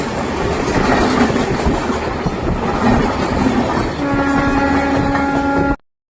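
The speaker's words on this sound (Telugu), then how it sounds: "మనం ఉదయ ఎక్స్ప్రెస్ అయితే క్రాస్ చేసాం." Udaya Express thundering past on the crossing track during a general-class journey from Rajahmundry to Vijayawada, loud close rushing wheel noise with clatter, a brief squeal of wheels or horn tones near the end before the sound cuts off.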